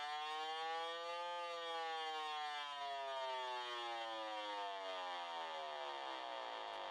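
A steady electronic tone glides slowly up and down in pitch, bright and buzzy with rich overtones, continuous and fairly faint.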